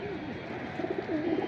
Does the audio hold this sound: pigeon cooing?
yes